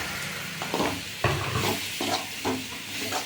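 Mashed boiled cassava is tipped into a hot pan with turmeric and stirred, giving a few scraping, sizzling bursts of spoon against pan over a low, steady frying hiss.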